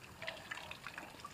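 Mountain spring water trickles steadily up close in a quiet outdoor spot, a continuous light burbling with small bright splashes and no voices.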